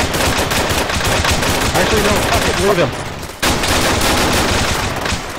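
Dense automatic gunfire in an Arma Bourbon Warfare multiplayer mission, loud and near, with rapid shots firing almost nonstop and one brief gap, while voices shout over the firing.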